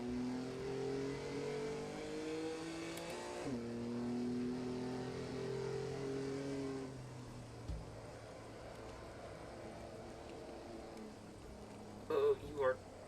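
A race car engine in the Assetto Corsa video game drones at a steady pitch, dips, then holds again at Brands Hatch, fairly quiet throughout, with brief thumps and a short burst of talking near the end.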